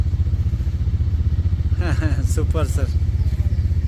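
A Suzuki motorcycle engine idles steadily and loudly at close range with a throbbing low rumble, while someone speaks briefly over it partway through.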